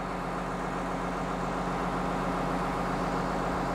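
A Lefort car crusher's engine runs steadily at a scrapyard, a loud, constant low rumble with no break and no talk.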